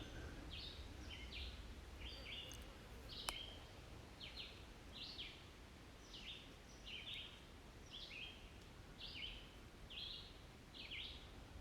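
Small birds chirp repeatedly in short bursts at a steady pace, faint and distant over a quiet hiss of outdoor background.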